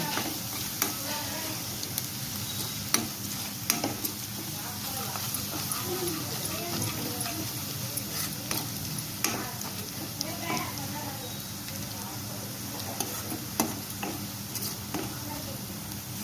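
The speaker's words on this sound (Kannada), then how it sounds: "ಬೆಳ್ಳುಳ್ಳಿ ಚೆನ್ನಾಗಿ ಹುರ್ಕೋಬೇಕು" Garlic fries in oil for gobi manchurian, a steady low sizzle punctuated by sharp clicks and knocks of stirring against the pan, with intermittent talking over it.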